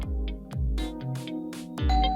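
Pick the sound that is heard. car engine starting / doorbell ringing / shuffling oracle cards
doorbell ringing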